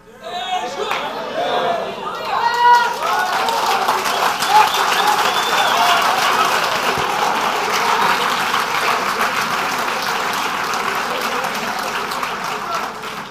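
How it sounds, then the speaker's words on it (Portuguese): Applause from a church congregation fills the space, starting after a brief quiet and holding steady with a busy wash of clapping and some crowd chatter underneath. "não aplaude muito não"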